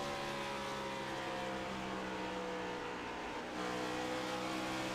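Race car engine from a Gen 7 Cup Series car in a racing video game at Nashville Superspeedway, a steady loud drone with a brief dip near the end as it shifts gears and holds high revs.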